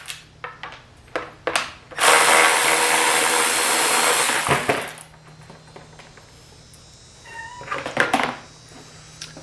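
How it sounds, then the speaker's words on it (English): A cat meows briefly amid workshop clatter. Sharp knocks and a loud, harsh burst of tool noise lasting a few seconds dominate, and the short, thin meows come near the end. "What is it, kitty cat? You exploring? Getting lizards?"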